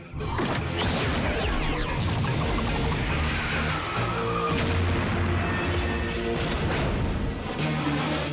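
Cartoon battle effects of an ice attack met by a fire barrier: dense crashing blasts, whooshes and impacts layered loudly and continuously, with no talk.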